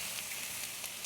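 Mushrooms sizzle in a pan, a brief, steady, moderate hiss of frying with faint crackles and no voices.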